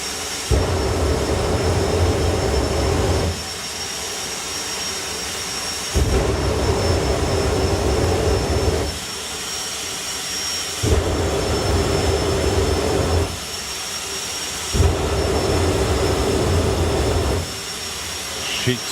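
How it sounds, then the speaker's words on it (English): The Firestorm jet funny car with a Ford Mustang body runs at a drag racing event, a loud roaring jet engine that surges in repeated long bursts with brief drops between, heard close and dominant throughout. "Sheets of flame coming out the back of the Firestorm Jet Funny car. The Ford Mustang bodied machine."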